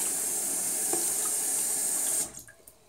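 Water from a running tap splashes over a safety razor being rinsed at a sink, a steady, close hiss that cuts off abruptly near the end, leaving a few faint drips and clinks.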